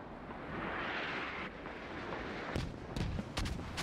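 Mortar rounds landing during a Squad battle, a rumbling roar of distant blasts followed by several sharper, closer impacts cracking through in quick succession near the end, with no talk.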